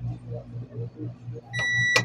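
A multimeter's continuity buzzer sounds twice while probing a shorted Daikin outdoor unit circuit board: two short, loud, steady tones near the end, after a low hum with someone talking quietly.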